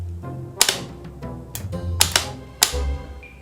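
A broken car starter motor clicks without spinning: a handful of sharp, irregular clicks over a few seconds, close and fairly quiet.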